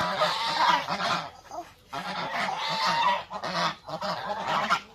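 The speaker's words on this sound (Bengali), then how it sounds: "দেখো হাঁস কেমন করে দেখছো?" Geese honking in a rural yard, loud, close and nearly continuous, with harsh repeated calls in overlapping bursts and only short gaps between them.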